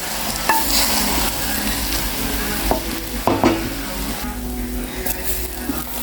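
Cantonese-style fried rice with soy sauce and chicken is stirred in a hot pan: a continuous close sizzle with repeated scraping and tossing strokes, and a few sharper knocks of the utensil against the pan.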